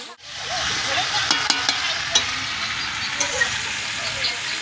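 Food sizzling in a pan during home cooking at a friends' picnic, a steady close hiss with scattered small pops and crackles carrying on throughout.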